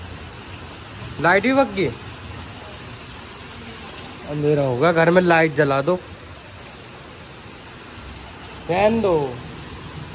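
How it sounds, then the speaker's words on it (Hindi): Heavy rain with hail falling over a village home, a steady hissing wash that runs throughout, with people talking in short bursts over it. "बहुत दिनों में पड़ी है बारिश"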